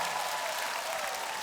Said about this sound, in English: Loud applause for you